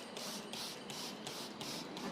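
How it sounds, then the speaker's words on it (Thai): A hand spray bottle mists water onto a seed tray for sprouting vegetable seeds, about eight quick hissing squirts in a steady rhythm, close and alone. "เสร็จแล้วเราก็สเปรย์"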